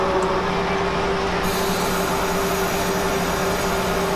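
Caltrain commuter train running in Train Simulator 2018 between San Jose and San Francisco, a loud continuous rumble of wheels and engine with a steady droning hum throughout, no voices.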